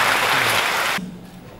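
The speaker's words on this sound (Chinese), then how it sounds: "掌声跟感谢。" Crowd applause at a kindergarten graduation ceremony in Keelung: a dense burst of clapping from the audience for about a second, then cutting off abruptly into a quiet room.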